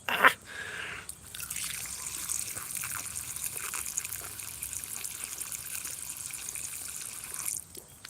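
Water streaming steadily from a public drinking fountain in Tokyo, heard close up as a continuous hissing trickle that starts after a short clatter and runs for several seconds before cutting off.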